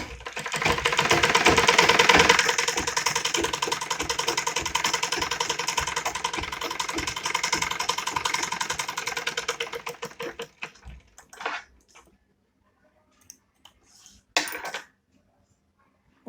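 A sewing machine stitching a child's night suit runs loud and steady for about ten seconds, then stops, followed by a few short bursts of stitching with pauses between them.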